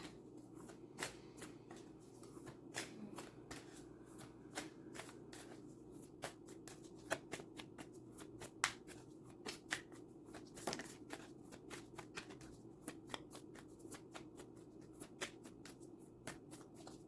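Divine Feminine oracle cards are shuffled close up in a quick series of sharp riffling slaps and soft card swishes, repeating unevenly with no talking.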